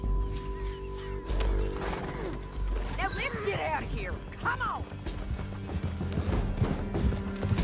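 Horse hooves clopping and a whinny from a galloping mount in the video game Red Dead Redemption 2, running under steady background music, clattering effects and a voice urging the group onward.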